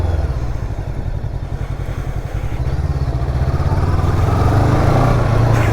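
A Daytona Rockstar 500 motorcycle's 500cc engine, a copy of Honda's, runs with a loud, steady throbbing pulse that swells toward the end as revs rise, heard close up.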